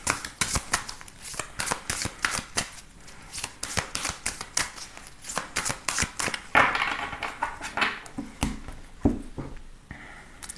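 Oracle cards shuffled for a tarot reading make a long run of rapid, close papery riffles and flicks, dense and rhythmic with short pauses, and no voice is heard.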